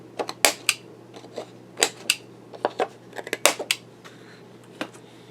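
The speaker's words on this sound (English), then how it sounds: "I'm going to round the" Scissors snip around the corners of stamped background paper for a scrapbook layout, a series of sharp, close, irregular clicks and cuts with short pauses between, no voices.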